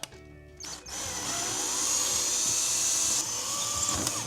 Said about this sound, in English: I'm going to try the bigger drill bit and just see what happens.